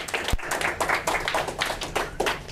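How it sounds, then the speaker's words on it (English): A business forum audience claps for a guest being welcomed, a sparse, uneven patter of hands with distinct individual claps and one sharp low thump early on. "you can give him a round of applause."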